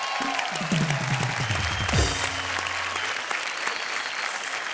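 A studio audience on a Hindi comedy-poetry show breaks into sustained, loud applause after a performer sings. A descending tonal swoop plays over the clapping early on, with a few cheers mixed in.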